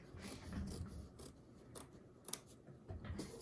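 Scissors snip through fabric for a heart appliqué, a handful of quiet, close crisp cuts with soft rustling between them, no talking.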